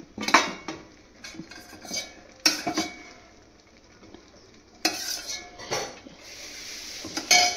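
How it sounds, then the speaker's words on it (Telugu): A plate is handled and greased with ghee in a kitchen, giving a few sharp clinks and scrapes of dishware in bursts separated by quieter stretches, close and fairly clear. "ఈ ప్లేట్ తీసుకొని ఈ ప్లేట్కి కొంచెం నెయ్యి రాసుకోవాలి"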